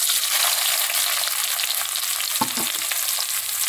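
Onion and garlic frying in hot oil for pasta, a loud, dense, steady sizzle close up with one brief clunk of a utensil partway through, no voices.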